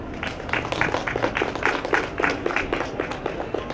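Audience applause for a Norwegian national chess team member at a stage show during a chess event in Tromsø: dense, rhythmic clapping from a crowd, loud and sustained throughout, with no voices over it.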